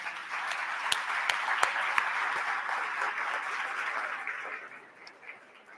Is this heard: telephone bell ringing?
no